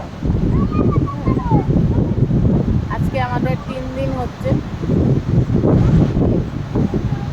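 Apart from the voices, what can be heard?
wind blowing at the sea shore, Digha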